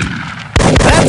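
A loud gunshot blast from the Big Buck Hunter Pro arcade hunting game bursts in midway through the short clip after a quieter stretch of game ambience.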